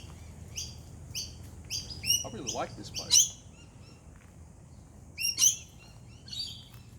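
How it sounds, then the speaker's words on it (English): Birds chirp in short bright bursts, some near, some farther off, over a quiet outdoor background, with a person speaking briefly between calls. "As you can hear, we've got the birds chirping, so you're really at one with nature."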